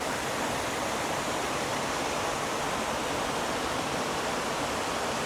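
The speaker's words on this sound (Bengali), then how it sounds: "আর এখান থেকে দাঁড়িয়ে কিন্তু আমি ঝর্ণা জল আওয়াজটা দারুণ পাচ্ছি" Tehrai waterfall in Keonjhar rushing steadily, a dense unbroken roar of falling water heard close and loud throughout, with no voices over it.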